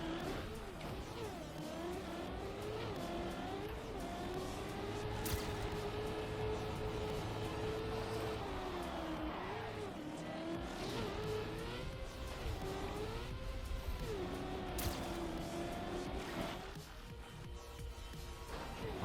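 A racing video game car engine drones steadily at mid volume for the whole stretch. Its pitch rises and dips as it revs and shifts, with occasional brief spikes and no talking.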